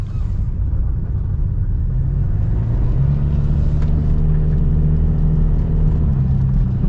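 Modified Chevy Colorado Baja pickup with about 25,000 miles, its engine droning steadily from inside the cab, with a deep rumble that swells midway as the truck accelerates, plus a brief turbo blow-off hiss.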